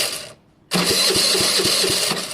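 A Kawasaki ZL600 motorcycle engine cranks over after a short pause, giving a loud, rapid rhythmic chugging of repeated compression pulses that runs steadily without catching, close by.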